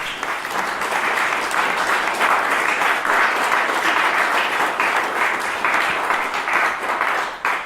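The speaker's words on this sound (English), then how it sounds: "Round of applause for Manu Gambhir." A live audience at a Startup Grind Philadelphia talk breaks into loud, sustained applause, a dense wash of many hands clapping steadily for the full stretch before tapering slightly at the end.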